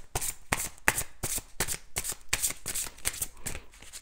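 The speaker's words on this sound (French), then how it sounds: "Je vais tirer une carte." Tarot cards shuffled by hand in rapid, rhythmic riffles, a steady run of crisp papery bursts close up with no talking.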